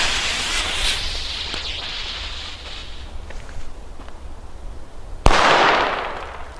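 A fizzing fuse hisses for a few seconds before a single sharp bang from a WECO Atomic Pack firecracker, followed by a crackling burst of noise nearby.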